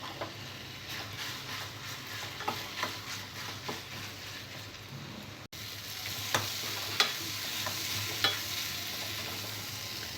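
Tomato and onion pieces fry with green chili in a pan for a restaurant-style meal maker gravy, a soft continuous sizzle broken by scattered clinks and scrapes of stirring, close and fairly quiet with no talk.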